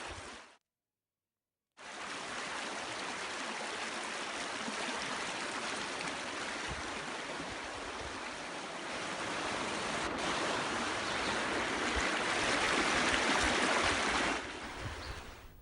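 Floodwater rushes through Hyderabad city streets after nonstop heavy rain, a steady broad watery roar that swells slightly toward the end, after a short silent gap at the start.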